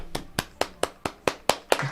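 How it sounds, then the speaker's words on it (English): A steady run of eight crisp, evenly spaced hand claps, close and fairly loud, keeping a brisk beat with no voices. "Clap it up for me."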